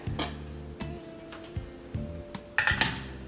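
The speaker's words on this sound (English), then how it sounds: "So, just going to give this a good stir." Macaroni and cheese stirred in a pot with a metal spoon, a series of distinct clanks and scrapes against the pot's sides, close and unhurried, with quiet gaps between strokes.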